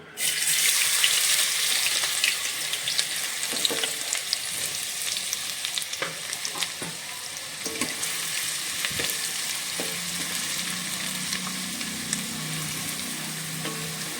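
Chopped onion fries in a generous amount of oil in a pan for village-style dry mutton, giving a steady close sizzle with occasional stirring clicks and scrapes.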